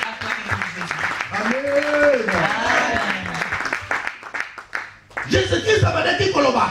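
A church congregation at a Paris dedication service claps and cheers together, with sustained applause under a loud voice, a brief dip, then a fresh burst of clapping.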